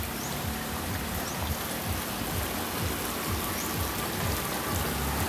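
Steady rain falls outdoors, a dense, even hiss of drops hitting surfaces that goes on without a break and without any voices.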